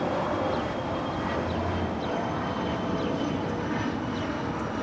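A Challenger 850 business jet departs Los Angeles International Airport for Las Vegas, a steady, loud broadband roar that holds even and unbroken throughout with no voices.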